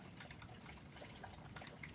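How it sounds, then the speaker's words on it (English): Running water trickles and splashes steadily in the survival horror game Alan Wake II, a close, continuous watery patter with no pauses. "You can hear that water running around"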